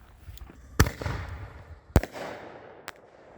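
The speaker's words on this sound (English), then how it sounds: "We're going to fire off these 3 silver artillery shells here." Black Cat silver artillery shells exploding outdoors: two sharp, loud bangs about a second apart, each trailing into a crackling fizz, then a fainter pop near the end.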